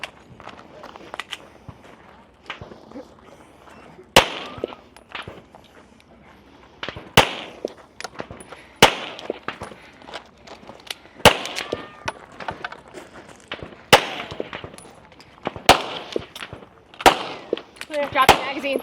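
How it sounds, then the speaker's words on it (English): Pistol shots at a biathlon firing line during a regional elite bike-and-shoot race stage, sounding as a series of sharp, spaced cracks over roughly eighteen seconds amid outdoor background noise and footsteps. "her first firing sequence of pistol"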